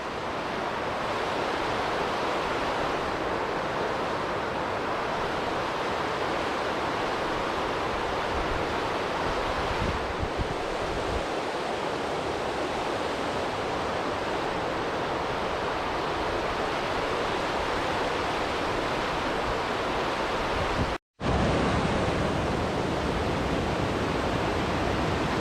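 Water rushing down the steep overflow slope of a dam in Scotland makes a constant, loud broadband roar, steady throughout with only a momentary cut near the end.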